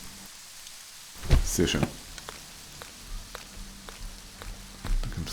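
Steady rain falling in the video game Green Project, a constant soft hiss running throughout, with someone speaking briefly over it.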